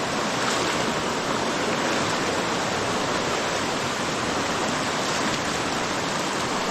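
Natural spring water flows and gushes outdoors in a steady, loud, broadband rush, unbroken for the whole stretch with no talk over it.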